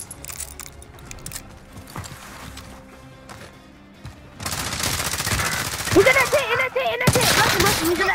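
Rapid bursts of video game gunfire in a Rainbow Six trios match. Sharp cracks grow dense and loud after a quieter opening, with sustained volleys and a few louder shots near the end.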